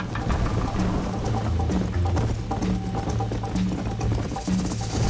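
Hoofbeats of a horse galloping in Red Dead Redemption, a steady rapid clip-clop under a continuous bed of game music and ambience, loud and close throughout.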